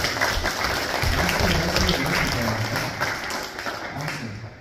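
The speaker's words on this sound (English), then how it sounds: "Can we get a round of applause for Carmen and Grace?" A church congregation applauds during a Sunday worship service, dense sustained clapping from many people filling the room, loud and even throughout before easing slightly at the end.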